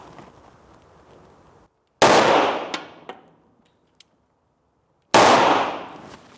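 Two sharp, loud shots from a Tokarev TT-30 pistol a few seconds apart, each with a ringing echo decaying afterward, over faint background noise.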